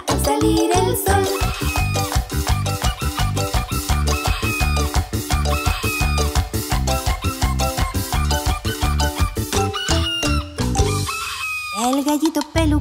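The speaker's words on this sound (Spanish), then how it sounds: "gallito pelucón canta que canta al salir el sol" A cartoon rooster crows repeatedly over bouncy music in a Spanish-language children's song, loud and rhythmic, alongside sung vocals.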